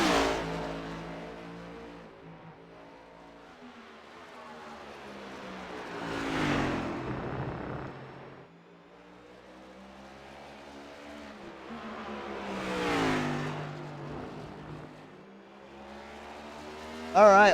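A race car engine in a Watkins Glen Cup Series racing video game revs up and fades back down twice, its whining tone climbing to each peak, set at a moderate distance.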